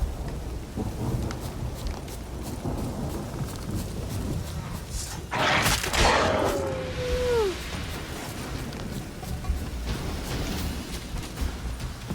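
A thunderstorm in The Witcher 3 video game: a loud crack of thunder with a rolling rumble breaks over steady rain, then fades back into the continuous downpour.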